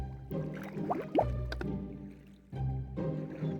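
Salty skeleton water being gulped and slurped, with wet drips, plops and gurgles in close, irregular bursts and a short pause before the liquid sounds return.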